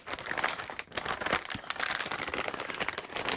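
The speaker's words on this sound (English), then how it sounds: "So it's our plastic bag." A plastic bag holding Kyosho Turbo Optima RC buggy parts crinkles and rustles continuously as it is handled up close, with irregular crackling bursts throughout.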